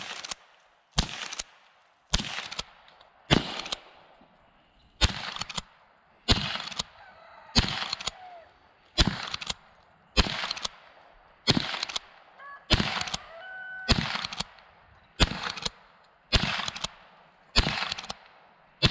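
A Winchester model 94/22 lever-action rifle fires at tin bean cans outdoors, with sharp loud shots repeating roughly once a second, each followed by faint mechanical clatter and a quiet decaying tail.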